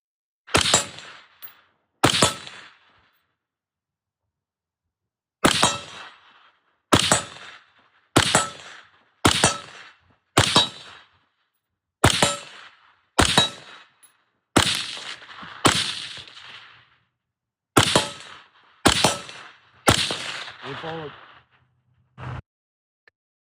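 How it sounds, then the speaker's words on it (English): Roughly fifteen sharp, loud gunshots go off one at a time with short gaps and a few quick pairs, each a crisp crack with a short ringing tail over otherwise silent surroundings. "James Fishback shoots gun mocking Byron Donalds."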